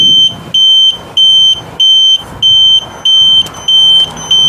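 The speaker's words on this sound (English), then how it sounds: "I place a lot of electrical tape to make sure these buzzers, they're gonna make a little less noise" A loud, high-pitched electronic buzzer on a scooter or motorcycle turn signal, partly muffled with electrical tape, beeps in a steady on-off rhythm, about eight evenly spaced pulses, close up with no talking.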